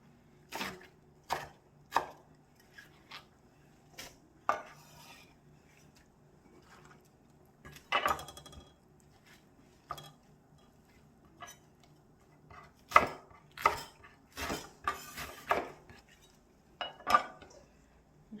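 Baby napa cabbage being chopped with a knife on a board for beef cabbage soup, irregular sharp chops in short bursts separated by quiet pauses, close and clear with no speech.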